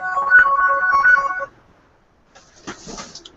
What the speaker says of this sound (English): That was actually my ringtone.